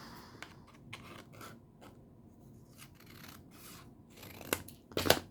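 Scissors trim paper for a junk journal pocket, giving soft rasping snips through the clip that end in two louder, sharper cuts close by near the finish.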